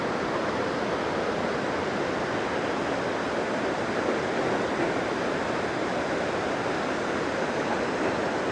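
The Beas river in Kullu-Manali flows swollen after heavy rain, a loud, continuous broadband rush of water, steady and unbroken with no voices.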